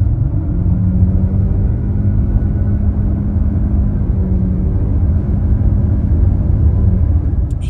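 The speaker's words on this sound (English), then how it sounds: "you hear that four cylinder roaring away to try to get the car and keep the car up around 80 miles an hour" A Lexus four-cylinder engine drones steadily inside the cabin while cruising near 80 mph on the highway, a loud, constant low rumble mixed with road noise and no talk.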